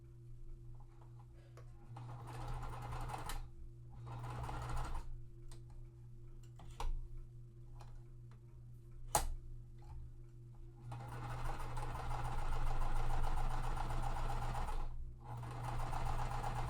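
A sewing machine stitching pieces of a quilt top, running in a steady rapid patter with short pauses and a brief sharp click, close and fairly quiet.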